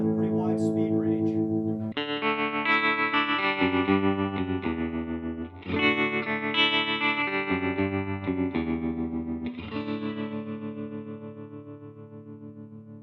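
An electric guitar plays sustained chords and notes through a Supro 1650RT Royal Reverb amp's warbling, pulsing modulation effect, which has a wide speed range, with mild distortion, loud and continuous, fading slightly at the end.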